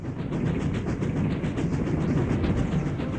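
A train runs on rails with a steady, loud rumbling roll and faint rhythmic clatter of wheels, continuous and close with no voices.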